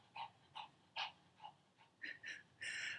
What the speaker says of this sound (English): I don't know if you can hear my dog. He's next to me. He's panting.